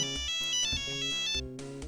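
A melodic ringtone-style ringback plays while a phone call connects, a bright repeating electronic tune of short tonal notes, fairly faint and alone, ending with a brief change in tone.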